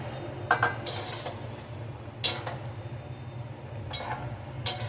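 A spoon scrapes and clinks against a metal pot while stirring broken wheat upma, in a few scattered bursts over a steady low hum, with no talking.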